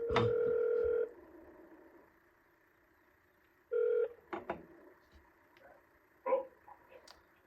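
A telephone dials out for a cold call, with loud DTMF tones at the start and again midway, followed by faint line noise and a few clicks and handling sounds, with no speech.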